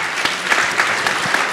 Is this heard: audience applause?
yes